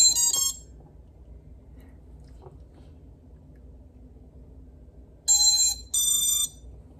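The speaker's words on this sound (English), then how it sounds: "It's supposed to go beep, beep after all those other beeps." A drone gives short electronic beeping signals: a brief tonal beep at the start, then two louder beeps close together near the end, separated by a stretch of low background noise.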